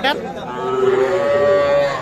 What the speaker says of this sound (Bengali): এই পাশে দেখছি বেশ কিছু ষাঁড়